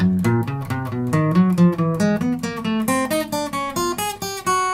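Guitar warm-up exercise played with an ascending 1-4-3-2 finger pattern and alternating down-up picking, a steady run of distinct plucked notes climbing in pitch, close and clear with no talking.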